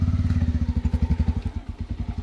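A motorcycle engine chugs in a fast, steady pulsing rhythm close by as the bike labours along a muddy road softened by days of rain, loud and with no talk over it.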